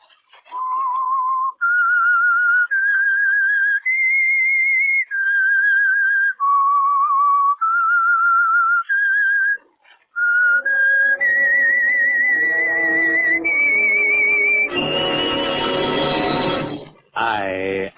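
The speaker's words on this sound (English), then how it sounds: "That whistle is your signal" A clear, melodic whistled tune of sustained notes stepping up and down, close and loud, ending with a brighter, busier burst of tones.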